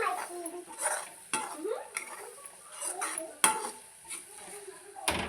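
Paneer gravy topped with chopped coriander is mixed in a pan, with a spoon clanking and scraping against the metal in irregular strokes and a sharp knock near the end, close and fairly quiet.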